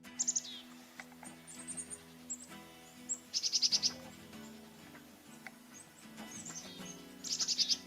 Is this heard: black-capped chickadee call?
yes